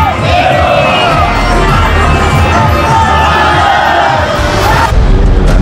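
A large crowd of protesters during riots in Karachi, a loud dense roar of many shouting voices that swells and carries on throughout.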